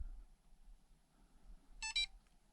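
A DumboRC radio receiver sounds its low-voltage alarm, a short quiet double beep of high electronic tones near the end of an otherwise silent stretch.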